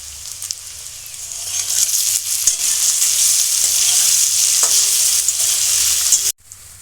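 Garlic cloves hit hot oil in a pan for Bengali egg dhoka and sizzle with a rising, steady hiss and occasional stirring clinks, cutting off abruptly near the end; no one speaks.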